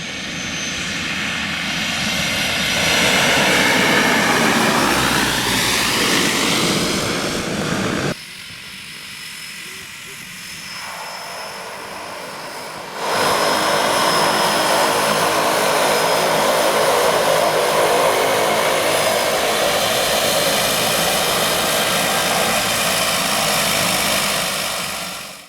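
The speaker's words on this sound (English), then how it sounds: "And here comes a plane for landing." A propeller plane comes in to land in Papua New Guinea, its engine droning loud and steady, briefly dipping before swelling again, with faint talk underneath.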